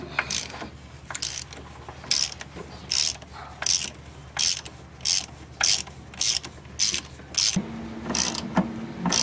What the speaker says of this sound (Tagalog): tatanggalin lang natin yung dalawang bolt diyan